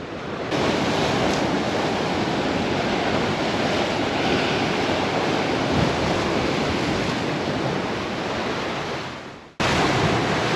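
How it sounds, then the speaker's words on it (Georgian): Strong wind and crashing waves on the Black Sea shore form a dense, steady roar that buffets the microphone, close and loud, cutting out briefly near the end. "ქარით ამოვარდა"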